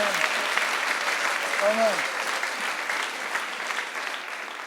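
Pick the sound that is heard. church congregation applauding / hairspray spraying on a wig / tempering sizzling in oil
church congregation applauding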